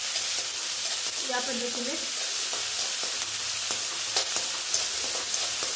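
Finely chopped onion frying in a pan with oil for South Indian upma, a steady close sizzle running throughout, with faint bits of stirring and a short spoken phrase near the start.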